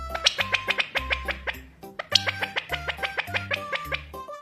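A small quail calling, a run of short, evenly spaced squawky notes with a brief pause midway before the sequence resumes, close and clear with no talk.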